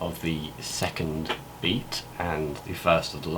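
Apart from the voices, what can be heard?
None of the usual background noises is heard.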